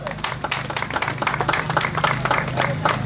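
Crowd at an outdoor village harvest festival in Zaborowice claps in a dense, even burst, with low voices murmuring underneath throughout.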